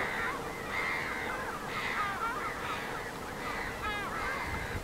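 Crows cawing around a parking lot near Zernikepark, a series of harsh calls repeating roughly every second over steady outdoor background noise.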